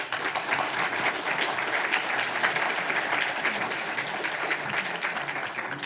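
An audience applauds steadily throughout, a dense wash of clapping at even loudness with no talking over it.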